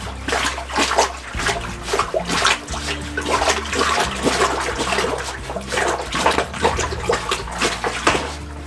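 A handheld plunger-style laundry washer is pumped up and down in a tub of water, producing rhythmic sloshing and gurgling surges with splashes, repeating roughly every half second over a low steady background hum.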